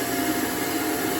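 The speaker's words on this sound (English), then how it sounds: "Sounds like a normal vacuum." A Shark Navigator upright vacuum cleaner runs steadily nearby after a clog is cleared, a continuous loud whirring roar with a high motor whine and no voices.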